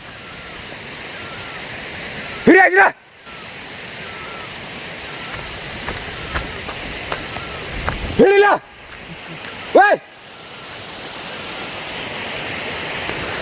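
A mountain stream rushes steadily at a drinking-water place, a constant broad wash of flowing water, broken a few times by a person shouting calls to animals.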